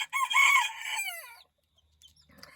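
Sebright chickens give a loud, close run of harmonic clucking calls for over a second, then go quiet with only faint scattered rustles and a soft chirp near the end.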